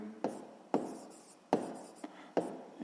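A pen writes down an answer to a sixth-grade maths exercise, giving four quiet scratchy strokes spaced under a second apart, close and otherwise silent.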